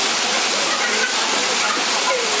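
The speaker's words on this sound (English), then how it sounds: "Look at this fine waterfall in this wee ravine." A small waterfall pours into a narrow ravine in Thailand, a dense, steady roar of rushing water close by that fills the whole moment without a break.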